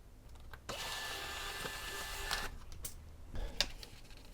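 A DYMO 4XL label printer, reassembled after arriving in pieces, whirs steadily through its feed motor for about two seconds, then falls quieter with a few clicks and clacks of the mechanism close by.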